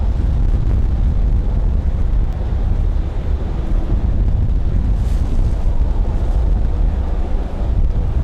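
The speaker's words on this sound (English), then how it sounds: "Boy, that wind is whipping right now." Strong wind buffets the microphone outdoors at Raleigh-Durham International Airport after a storm, a loud continuous roaring rumble that persists steadily throughout with no speech.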